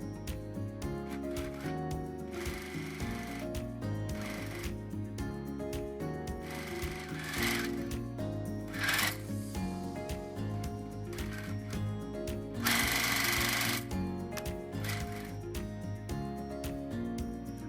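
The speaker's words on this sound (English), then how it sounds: "take this over to the sewing machine and chain piece all of these together" Sewing machine chain piecing cotton quilt squares for a nine patch block, running in a steady whirring stitch with brief pauses and restarts, close and fairly loud.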